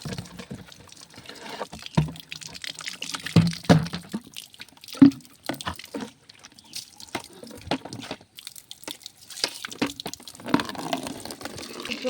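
Water from a tap runs and splashes into a container at home in the morning, a soft uneven trickle with scattered drips and small clunks, fairly close and alone.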